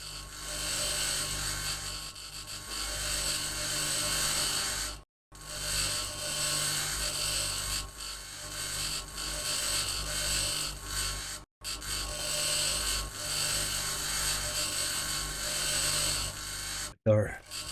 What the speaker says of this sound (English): With our tier 3 grinder, this stuff's easy work.